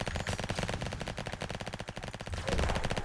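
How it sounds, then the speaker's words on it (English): Rapid minigun fire in Roblox Flag Wars comes as a dense, steady stream of loud gunshots for nearly the whole stretch, briefly giving way to a rougher burst near the end. "Bro ran up with a minigun."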